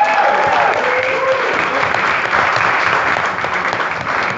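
Sustained applause from a comedy club audience welcoming a comedian to the stage, loud and steady throughout with a faint voice briefly audible early on.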